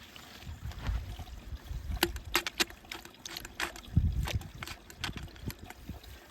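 Spring water trickles and splashes gently nearby over rock, with irregular small drips and sharper clicks over a soft continuous flow.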